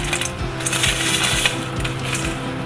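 French fries are lifted out of hot frying oil, a dense crackling sizzle with rattling, clinking bursts as the fries are shaken and scooped, loud and close throughout.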